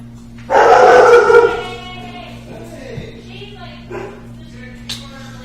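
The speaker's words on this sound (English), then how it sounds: "Dogs get vicious in here." Dogs bark in a loud burst of yelps and woofs, followed by a few quieter scattered barks and whimpers.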